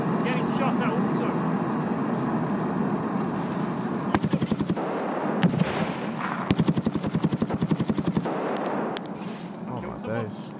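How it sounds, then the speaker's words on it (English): Rapid automatic gunfire bursts crackle through a video game battle royale match, loud repeated volleys over constant action noise, with players talking throughout. "I'm getting shot at also"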